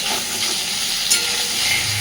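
Potato and taro pieces frying in a pan give off a constant close sizzle with faint stirring scrapes and no talk.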